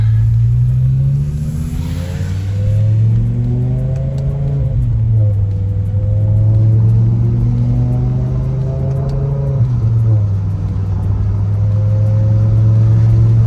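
A BMW M5 with an S85 engine, fitted with a new lightweight flywheel and clutch still being broken in, pulls away in a steady low drone that rises gently in pitch twice, loud and close from inside the car.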